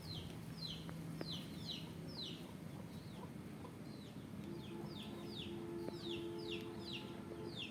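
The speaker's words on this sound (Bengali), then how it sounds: "এই যে মুরগি" Chickens cluck in short repeated bursts at a moderate distance in a farmyard alongside ducks and goats, over a steady background hum.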